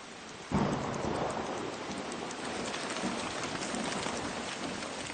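Steady rain pours down on the Amazon rainforest with a dense hiss after a sudden rumble of thunder, continuing evenly without any voices.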